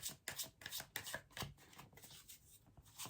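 Tarot cards being shuffled and pulled from the deck, a quick series of soft papery riffles and slaps close by, quiet and uneven, fading toward the end.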